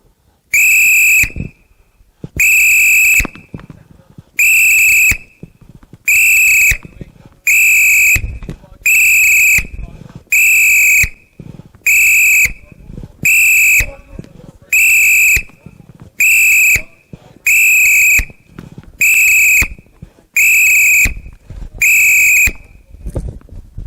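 A coach blows a shrill whistle again and again during ball alley training, about fifteen loud, evenly spaced blasts with brief gaps, and faint movement and calls in between.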